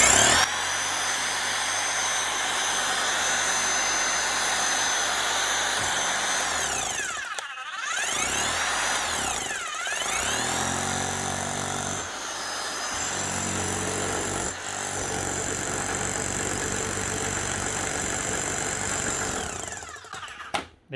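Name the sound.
serviced power hammer running on test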